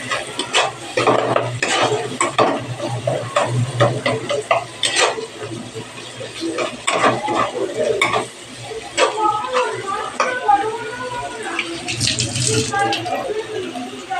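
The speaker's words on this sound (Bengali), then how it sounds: "নুন হলুদ দিয়ে সামান্য নেড়ে নেব।" Lentils stirred in a pan with salt and turmeric for rajma dal, a busy run of scraping and clinking spoon strokes over a soft sizzle, with a voice talking throughout.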